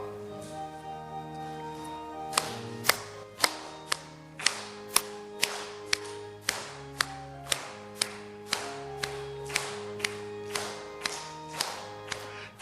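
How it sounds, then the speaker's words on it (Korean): A church congregation claps along at a steady beat while a hymn plays, sharp regular claps sounding over sustained keyboard chords and melody. "우리 박수 치면서 함께 찬양하겠습니다"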